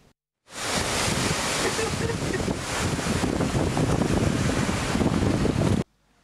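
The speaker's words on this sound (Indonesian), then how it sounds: "angin kencang disertai gelombang tinggi membuat para wisatawan enggan untuk berkunjung" Strong wind and high surf at Sanur's white-sand beach in Bali, a continuous loud roar of crashing waves and wind buffeting the microphone, steady throughout with no voices.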